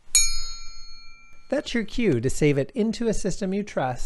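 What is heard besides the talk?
bell ding sound effect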